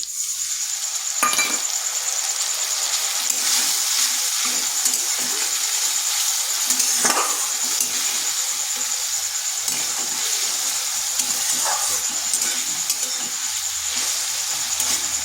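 Okra fries in a pan as mixed spice paste goes in, bringing a constant bright sizzle with a few brief clinks and stirring scrapes throughout, with no talk.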